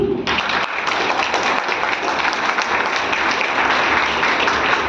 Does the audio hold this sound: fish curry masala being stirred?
no